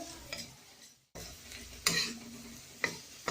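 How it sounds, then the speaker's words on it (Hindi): Onions and turmeric in a pan for kanda poha are stirred, giving a low steady sizzle with scraping strokes and a few louder spatula scrapes, close up and without talk. "इसे लगातार चलाते हुए ही कुक करें।"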